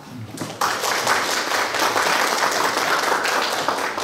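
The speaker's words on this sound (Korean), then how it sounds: "유정규 교수님께 다시 한번 박수 부탁드리겠습니다" An audience at a printing-industry development forum in Daejeon applauds a speaker, steady dense clapping from many hands that swells in after a brief pause and continues throughout.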